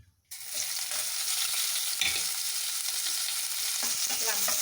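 Onions frying in a little leftover fish-frying oil, a sharp sizzle that bursts in after a brief silence and holds steady and close, with spatula scrapes and clinks as they are stirred.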